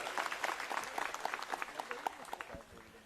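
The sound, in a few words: crowd applause at a political rally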